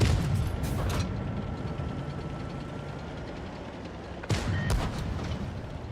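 Tank cannon fire striking the player's tank in the mobile game Tanks Blitz, with a rumbling engine drone underneath, an initial impact burst, then a loud close blast with sharp cracks near the end.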